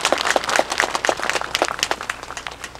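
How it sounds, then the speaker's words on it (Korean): Crowd at a ceremony celebrating Samcheok's Jukseoru pavilion being raised to national treasure status claps to welcome the mayor: close, distinct, quick handclaps in a lively, somewhat uneven rhythm, with no talking. "여러분 다시 한번 시장님 뜨거운 박수로 맞아주시기 바랍니다."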